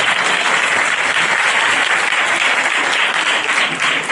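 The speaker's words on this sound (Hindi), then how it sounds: "जोर से ताली बजाएं।" A large crowd at a church Christmas convention claps loudly and continuously, a thick, even roar of applause at close range with no break.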